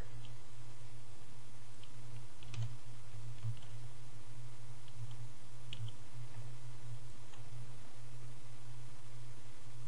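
Soft, sparse clicks from computer keyboard keys being pressed sit over a steady low hum and noise floor, with no talking.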